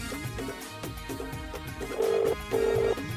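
A telephone ringtone repeats in two steady bursts over a background of music, fairly loud and close, with no talk during the rings.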